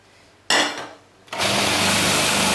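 An electric mixer whirs loudly while beating a gluten-free quinoa bread batter with coconut oil, running in a short burst, easing down, then starting up again at a steady, sustained drone.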